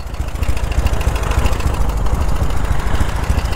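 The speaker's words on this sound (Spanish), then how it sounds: "Aquí tenéis la BMW R12." A BMW R12 motorcycle engine idles close by, a steady low rhythmic throb with an uneven, tractor-like pulse, no voices.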